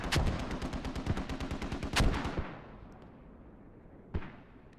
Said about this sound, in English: I heard mortars down here.